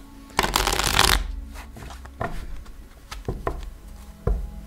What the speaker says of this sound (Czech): Já si tady budu teď chvilenku míchat karty a mrkneme na to.